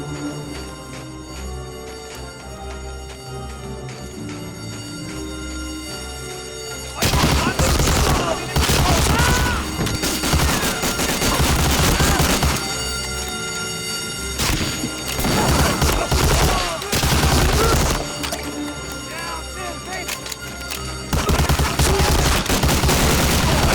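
Soldiers firing guns in the shooter game Medal of Honor: after a quieter musical stretch, loud, dense volleys of rapid automatic fire and booming shots erupt and continue in heavy bursts with brief gaps.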